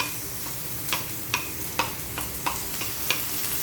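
Garlic and onion fry in a pan, a steady sizzle broken by sharp spatula taps against the metal roughly every half second, close and fairly loud with no voices.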